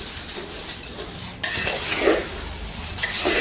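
Fried sambar powder ingredients stirred in a pan, scraping spoon strokes and clinks of metal against the pan over a faint sizzle, close and irregular, no voices.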